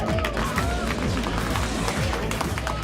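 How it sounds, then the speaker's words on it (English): Crowd applause and cheering at a night EnduroX motorcycle event, continuous clapping from a large audience at steady loudness, with engine-like rumble and voices mixed underneath. "Round of applause."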